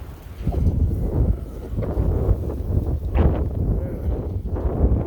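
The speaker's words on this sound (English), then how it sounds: "We do have wind." Steady low rumbling wind gusting across an open field near a Quonset hut, a continuous broadband roar with swelling and easing gusts close to the microphone.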